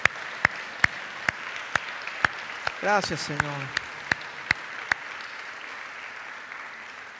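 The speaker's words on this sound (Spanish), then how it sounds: "Denle un aplauso al Señor" A church congregation applauds during a Spanish-language sermon at a house of prayer, with evenly spaced sharp claps in a steady rhythm. A voice speaks briefly in the middle of the clapping.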